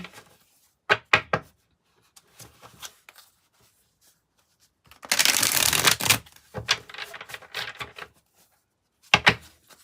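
A tarot card deck is shuffled in several separate bursts, with sharp riffling snaps and one longer, denser stretch of rapid card flutter, close and clear with quiet gaps between.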